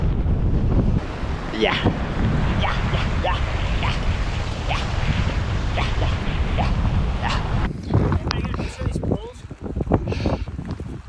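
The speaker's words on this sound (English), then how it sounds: "That wind is cutting." Strong wind buffets the microphone on the exposed mountain heights at Trolltunga, a steady loud roar for most of the clip with a person briefly talking over it.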